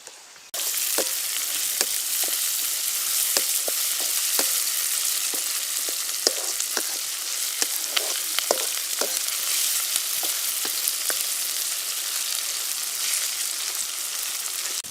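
Curry leaves spluttering and sizzling in hot oil for a village-style fish curry, a steady bright hiss with scattered sharp pops throughout, close up and with no voices.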